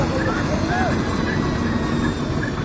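Crystal company helicopter in an accident at Kedarnath, with a loud, steady rotor and engine roar filling the clip, wavering whistling tones over it and no break in the noise.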